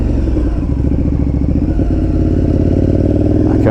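KTM 1290 Super Duke R motorcycle engine roaring steadily and loud up close, a continuous heavy mid-pitched drone with slight clatter, no talking.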